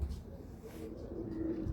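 Golden pigeon giving low, soft coos close by, faint and brief, with a hint of a voice in the background.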